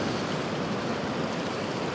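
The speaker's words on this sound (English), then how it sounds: "I'm just going to wait for another set of waves to come in" Sea waves break over the rocks at Flamborough in a steady, loud, broadband roar of surf that fills the whole moment without pause, with no voices.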